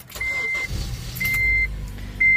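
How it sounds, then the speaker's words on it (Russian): A car parked outdoors in freezing cold idles with a steady low engine rumble while it warms up, and a repeated high electronic chime beeps three times over it. "Сейчас начнем пригревать машинку."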